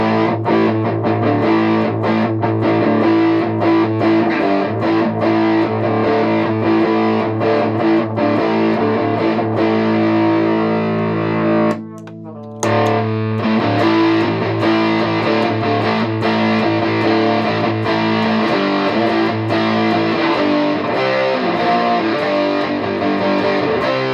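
An electric guitar plays through a Proco Rat distortion pedal with the distortion knob at 3 o'clock, giving a dense, loud, saturated tone that rings steadily and breaks off briefly partway before resuming.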